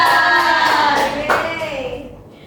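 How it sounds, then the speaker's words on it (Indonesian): An elementary school class claps for a student group in a brisk burst of hands, with children's voices rising over it before the applause fades out. "Untuk kelompok 1 berikan tepuk tangan untuk kelompok."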